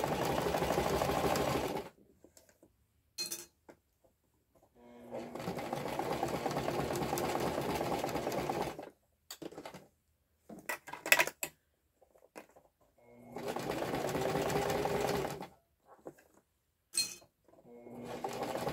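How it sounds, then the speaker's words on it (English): Sewing machine stitching fabric for a Christmas purse, running in three long steady bursts separated by quiet pauses with small handling clicks and clinks between them, close and moderately loud. "Just rolling, sewing and rolling."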